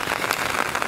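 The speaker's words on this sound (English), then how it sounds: "this was one hell of a great idea because it's raining out" Steady rain falls outdoors on a street, a dense, even hiss of drops on surfaces heard up close with no voices.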